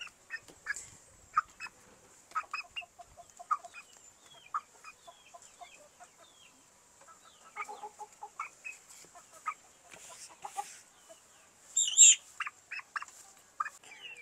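Incubator-hatched chicks give a steady stream of high, thin peeps and chirps, nearby but soft, with a louder burst of cheeping near the end.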